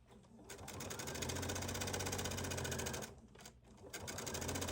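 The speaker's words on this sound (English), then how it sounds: "From the right side, you're sewing this top stitching to completely finish the placket from the front." A sewing machine runs steadily while top stitching the front placket of a Hawaiian shirt from the right side, whirring fast and even, pausing briefly near the end before starting again.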